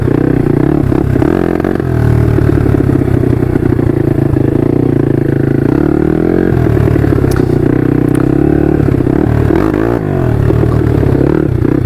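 A 150 RXF small dirt bike rides hard, its engine buzzing loud and close throughout, with shifting revs and a brief dip, plus clattering and scraping from the machine.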